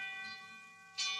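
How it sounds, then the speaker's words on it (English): A fire alarm bell rings in a steady, sustained tone in an old-time radio drama, fairly faint at first and swelling brighter just before the end. "Why, that's the fire alarm bell,"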